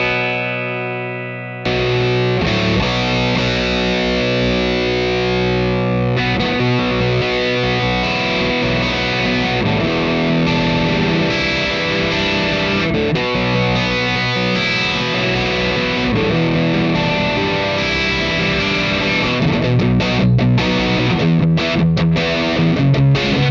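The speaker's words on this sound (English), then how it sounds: "Here's a big fat crunch tone with the classic valve distortion." Electric guitar played through a ModTone Classic Valve Distortion pedal on a high-gain crunch setting, thick and loud with sustained chords and distinct note separation, running steadily throughout with no talking.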